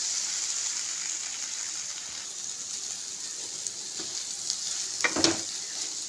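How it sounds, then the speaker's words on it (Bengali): Cabbage frying in a pan gives a steady, close sizzle, with a few light scrapes and clinks of stirring toward the end. "এটা পাতাকপি ভাজা করেছি, হয়ে গেছে, নামিয়ে নেব।"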